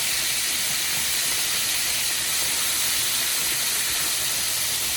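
Pork chops fry in a skillet with a loud, steady, continuous sizzle and no pauses or voices.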